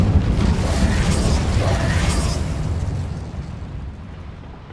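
The Incendio fire spell cast in Hogwarts Legacy, a loud, close, rumbling whoosh and roar of flames that fades away over a few seconds, with a voice faintly present.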